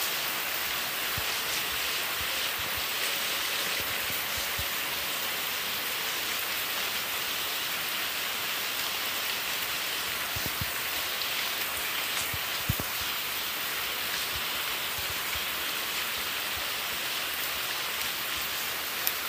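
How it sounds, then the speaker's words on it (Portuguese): Heavy rain in the game Free Fire pours steadily as a dense, loud hiss, with occasional sharper drops and splashes standing out. "A chuva tá muito forte."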